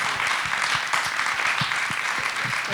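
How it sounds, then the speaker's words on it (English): Audience applause for President Kagame at a Global Shapers Community meeting in Addis Ababa, a steady wash of clapping hands filling the room without a break from start to finish. "Please join me in another round of applause to thank President Kagame."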